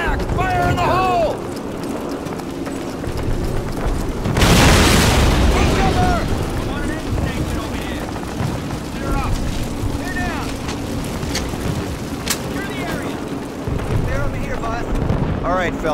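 A grenade goes off in the Call of Duty video game, a loud booming blast in the middle of the scene, with soldiers shouting and talking around it.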